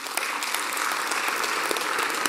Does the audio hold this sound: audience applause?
yes